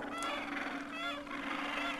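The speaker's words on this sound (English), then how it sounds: "Right in front of us, we have a great little nesting pair of gentoos here." Gentoo penguins call at a nesting site on Peterman Island, Antarctica, giving a brief, harsh, honking chorus that stays fairly steady and moderately loud against outdoor background noise.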